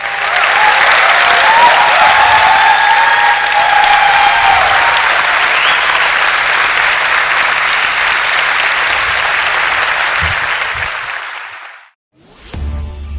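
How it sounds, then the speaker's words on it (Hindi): An audience applauds after a motivational speech, loud sustained clapping from a crowd that holds steady for about eleven seconds before cutting off abruptly, followed by a brief faint tail. "बहुत तालियां बजाई"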